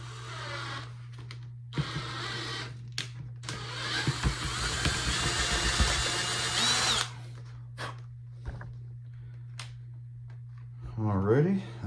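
A power drill with a 3/8 bit buzzes in loud bursts, revving hard for a few seconds and then stopping and starting in short spurts against a steady low hum, with someone talking at the end.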